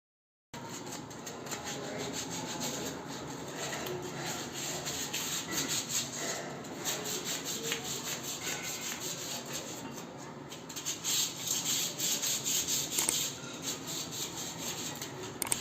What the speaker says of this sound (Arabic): أول مرحلة بنبدأ نمشي صنفرة بقى على الحديد كله